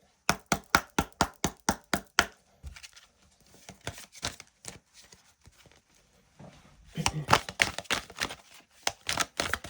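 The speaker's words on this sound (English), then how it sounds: "let's give it a shuffle and see what jumps out" A deck of oracle cards being shuffled by hand: a quick run of sharp, evenly spaced riffling snaps, a quieter stretch of soft shuffling, then another dense flurry of card slaps and flicks.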